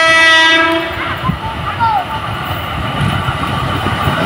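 A KRL commuter train passes a switch at Depok, opening with a loud horn blast, then a steady rolling rumble and wheel clatter close by, with people talking faintly in the background.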